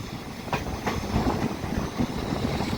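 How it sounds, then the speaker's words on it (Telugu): A passenger train eases through a curve on the line toward Koraput, a steady close rumble with rhythmic clickety-clack of wheels over rail joints and faint metallic squeal. "మనకి చూడండి ట్రైన్ అయితే దెబ్బకి ఏకంగా స్లో అయిపోయింది"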